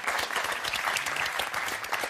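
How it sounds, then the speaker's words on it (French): Game-show studio audience clapping for two departing contestants, a brisk continuous patter of many hands at moderate volume. "On applaudit quand même Jocelyne et Roxane qui nous quittent"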